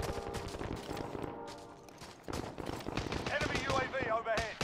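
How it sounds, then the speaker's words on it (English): Rapid bursts of gunfire in the video game Call of Duty: Modern Warfare crackle close and loud, in uneven volleys, while a player talks over the shooting. "Where the fuck am I getting shot from?"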